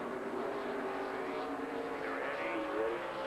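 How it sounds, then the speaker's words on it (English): A pack of NASCAR stock cars, including Chevrolets, roars as it accelerates to take the green flag at the 2007 Chevy Rock & Roll 400, a continuous dense engine drone with faint radio chatter underneath. "We're going to watch and listen as Jeff Gordon and Dale Earnhardt Jr. come down and take the green flag."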